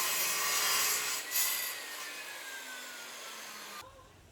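A hand saw cuts through old, rotten timber to trim it to length, giving steady raspy wood-on-wood rubbing strokes up close for several seconds before the sound drops away.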